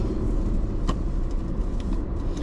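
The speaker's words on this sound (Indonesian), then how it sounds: "Ini benar nih hari pertama saya nyetir Grand Vitara" A Suzuki Grand Vitara on the move, giving a steady low road and engine rumble from inside the cabin, with a few faint clicks and no talk.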